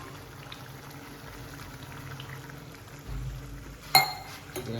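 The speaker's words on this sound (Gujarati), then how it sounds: "પાણી એડ કરીએ." Water is poured into a pan of simmering gravy for a whole-garlic curry. A low splashing pour rises over a soft bubbling hiss, then a sharp clink of utensil on pan.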